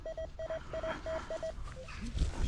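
A metal detector beeps in a quick series of short electronic tones, then a lower tone and soft spade digging noises follow while hunting for coins.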